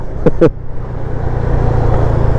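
A 2021 Honda Click 125i on Bridgestone Battlax SC tyres runs flat out at top speed, its engine a steady low drone mixed with rushing wind. Two short sharp bursts cut through near the start.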